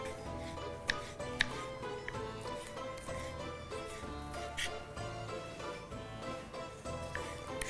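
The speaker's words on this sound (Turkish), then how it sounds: "Bir tane domates de kestik." Knife cutting tomato and pepper on a board, a steady run of soft chopping taps with a few sharper knocks, faint and close, no talk.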